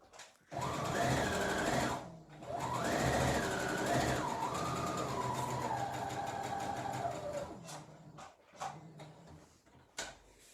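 Sewing machine stitching fabric for an Easter bunny bag, a loud close motor whir in two long runs that slow and stop, followed by a few brief clicks.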